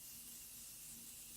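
Makeup setting spray misted from a bottle close to the microphone, a steady hiss holding for over a second without a break.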